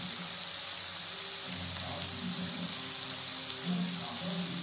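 Pointed gourd (potol) frying in oil while being stirred, a constant bright sizzle under low scraping and clinking sounds in the pan.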